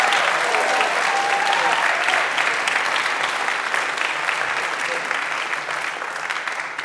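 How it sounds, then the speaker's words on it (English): An audience at a school arts day applauds classmates with sustained, dense clapping that stays steady and loud for the whole stretch, fading only slightly toward the end. "Give a round of applause for all your classmates."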